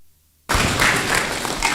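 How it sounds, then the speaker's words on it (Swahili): A church self-help group meeting at St Augustine Catholic Church, Juja, breaks into sudden loud applause for Redemptor, dense clapping starting abruptly after a quiet moment and continuing steadily. "Makofi tena kwa Redemptor."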